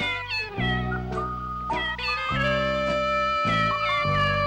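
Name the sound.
cat singing in a film's musical scene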